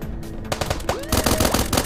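Rapid automatic gunfire in Starbound, a quiet start followed by fast repeated shots that grow denser and louder, with a rising tonal sweep in between.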